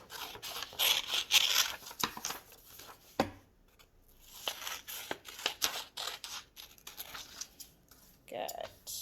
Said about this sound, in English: You are going to cut along those lines.